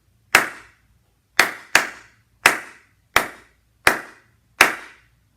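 A single person claps a rhythm by hand during a music lesson: seven sharp, close, isolated claps in an uneven pattern of long and short gaps, including one quick pair, with silence between them.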